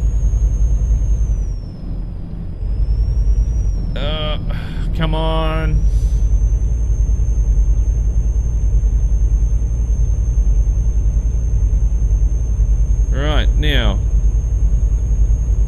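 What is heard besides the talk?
Kenworth W900L truck engine driving, from video game Euro Truck Simulator 2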